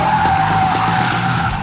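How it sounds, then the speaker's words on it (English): Race car tyres skidding and squealing in a sustained slide through a cone-marked corner during an advanced car control session, a steady loud screech with engine roar underneath, no talk. "maintain a good slide around the corners"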